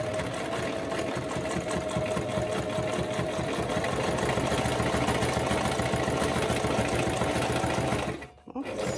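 A sewing machine runs steadily while stitching a paper bag, a continuous close mechanical whirr with rapid rhythmic needle ticking that cuts out abruptly near the end.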